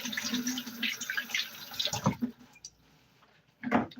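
Tap water runs over eggs being rinsed at a kitchen sink, a close, splashy flow that stops abruptly, followed by a brief drip and a splash.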